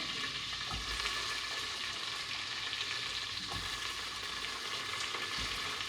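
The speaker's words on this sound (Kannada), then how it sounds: "ಮತ್ತು ನೆಕ್ಸ್ಟು ಇದು ಈರುಳ್ಳಿ ಫ್ರೈ ಮಾಡೋಣ" Onions fry in a pan with a soft, continuous sizzle and occasional low stirring knocks, quiet and without any voices.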